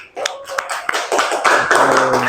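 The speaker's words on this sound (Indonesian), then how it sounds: "tepuk tangan untuk Febri" Classroom clapping for a student named Febri, a short, loose patter of children's hands, sparse taps at first thickening into a brief burst, fairly close, with a voice briefly heard.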